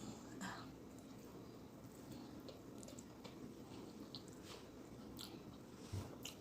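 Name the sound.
eating egusi soup with fufu and amala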